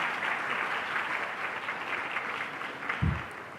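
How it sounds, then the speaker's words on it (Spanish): Audience members at a medical panel on gender harassment give a moderate round of steady applause, heard from a slight distance, with one sharp thump near the end. "repetir el aplauso porque realmente es un trabajo bastante positivo"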